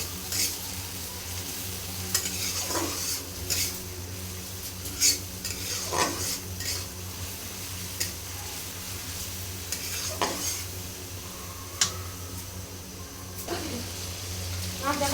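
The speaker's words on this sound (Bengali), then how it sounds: "এখন সবগুলো উপকরণ আমি খুব ভালোভাবে কষিয়ে নেব।" Spice paste for a gizzard-and-liver dal sizzles steadily in a pan while a spoon scrapes and stirs it in slow, repeated strokes, the frying hiss continuous and close.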